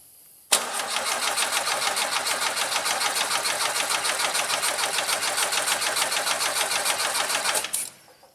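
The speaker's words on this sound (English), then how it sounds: "Keep on cranking." An old Toyota Hilux engine cranks with fast, rhythmic pulses that hold steady for about seven seconds, then cut off abruptly. The sound is close and loud, with no talk over it.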